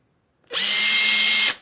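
A Panasonic EY7441 cordless drill, six or seven years old, whirs steadily at close range for about a second, starting abruptly and cutting off cleanly, with no talking.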